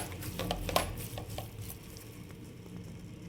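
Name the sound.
spinach being stirred and fried in ghee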